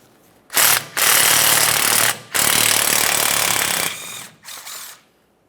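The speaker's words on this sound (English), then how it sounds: "I'm going to remove the bolt, just give it a quick inspection" A ratchet removing a 10mm mounting bolt from the rear brake hose and line assembly on a 2004-2008 Ford F-150: several loud, rapid clicking bursts of varying length, close to the microphone, with short pauses between them.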